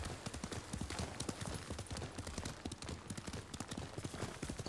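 Steady rhythmic clip-clop of horse hooves trotting in the video game Ghost of Tsushima, quiet and continuous, with a faint background hum.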